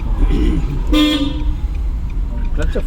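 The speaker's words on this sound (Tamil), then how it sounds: "ஹார்ன் அடிச்சுக்கோங்க" A car horn gives one short, loud toot amid steady road and engine noise during a driving lesson.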